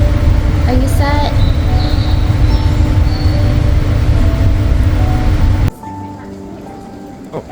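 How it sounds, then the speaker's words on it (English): Steady rumble of a Tokyo subway train heading to the airport, a loud continuous roar with faint tonal whines, briefly dropping quieter near the end, with voices in the car. "we just took the subway all the way to the airport because it's cheap"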